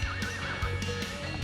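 A horse whinnies nearby in a mountain pasture where many horses and foals graze, a short wavering neigh rising and falling over about a second and a half.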